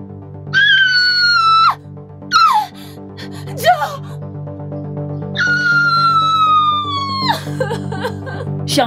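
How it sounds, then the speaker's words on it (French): In a French-dubbed Nigerian revenge drama, a person lets out two long, loud, strained screams separated by gasps and short cries, heard close with no other talk. "J'ai entendu quelqu'un crier."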